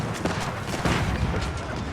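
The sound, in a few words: Chinese hand cannons firing in a strategy video game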